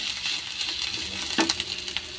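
Tomatoes dropped into a pan of fried salmon for sinigang sa miso set off a steady hiss of sizzling oil, with clinks and light knocks of pieces hitting the pan, including one sharper clatter midway, close and moderately loud with no talking.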